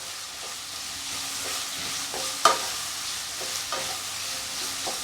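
Potato pieces stir-roasting in a pan over low-to-medium flame, a steady sizzle broken by repeated scraping strokes of a spatula, with one sharp clack midway.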